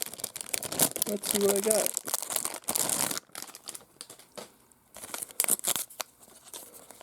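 Foil basketball card packs are torn and crinkled open in bursts of sharp crumpling and ripping, loud and close, with quiet pauses between and a short spoken remark over the handling.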